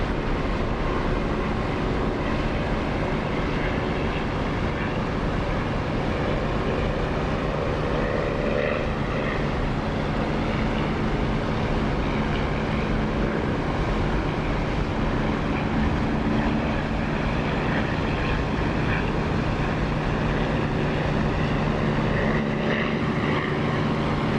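A propeller warplane in the DCS flight simulator drones steadily through its takeoff, a constant loud engine roar with a buzzing tonal hum and no change in level, with no voices.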